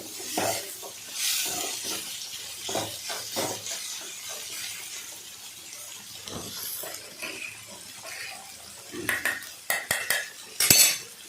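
A ladle scraping and clinking in a pot while bitter gourd kulambu is served, light metallic taps and stirring sounds at an irregular pace, close and fairly quiet, ending in a quick flurry of clinks.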